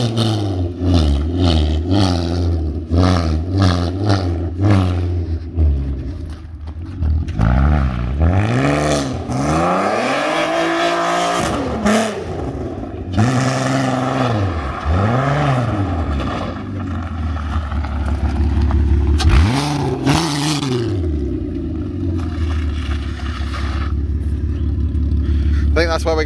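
An R32-engined go-kart starts up, revs hard and drives off, engine pitch rising and falling through repeated revving sweeps while the wheels spin into donuts, loud and close throughout.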